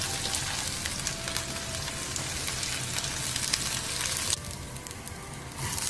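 Moong dal frying in oil in a pan over low flame, a steady dense sizzle with fine crackling throughout, easing slightly near the end, with no voices.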